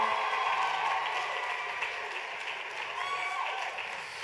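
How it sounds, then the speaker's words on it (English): An audience at a dance competition gala for the NYCDA Orlando Nationals applauds a young dancer, with sustained, fairly distant clapping from a large crowd that holds steady for several seconds and tapers slightly, with faint voices mixed in. "Give her a nice big round of applause."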